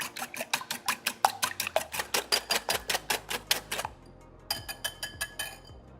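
A whisk beats egg with water, mirin, sweet sake and light soy sauce in a bowl. It makes a fast, even run of bright clinks that stops briefly, then picks up again in a shorter burst.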